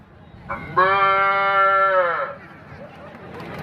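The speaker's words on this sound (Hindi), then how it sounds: "कहीं से गाय का बछड़ा आवाज दे रहा है" A single drawn-out bleating call from a calf, nasal and steady, close by, with quiet background noise before and after.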